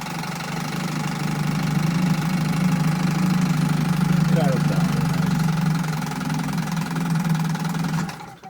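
A 1962 Sea King 5 hp outboard motor runs steadily and close, its mid-pitched drone carrying a faint knocking pulse before cutting off near the end.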